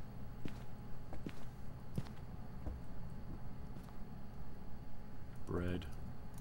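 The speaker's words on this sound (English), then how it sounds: "There's a footstep." A single footstep in the Phasmophobia ghost-hunting game, a short muffled thud from a distance, with a brief rising creak around it, set against steady background hum and scattered faint clicks.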